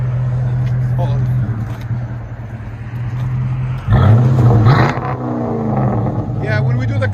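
A 2005 Chrysler 300C with a cammed 5.7L HEMI V8 and true dual Flowmaster Outlaw exhausts idles with a deep lumpy burble, then blips into a short loud rev before settling back, while people talk nearby.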